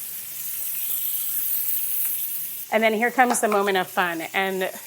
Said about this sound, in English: That sound you hear is like the sound of all the kimchi juices just starting to hit that hot pan.